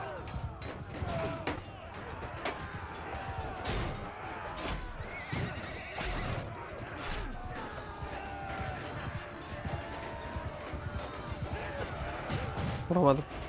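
Horses whinny loudly again and again in the video game Mount & Blade II: Bannerlord, mixed with hoof clatter and combat crashes and thuds, while a player speaks at intervals.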